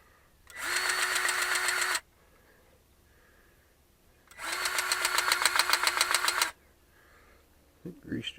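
A Milwaukee M18 cordless grease gun pumps grease into fittings on a farm implement's arms, its motor buzzing in two steady, close bursts of about one and a half and two seconds, separated by quiet.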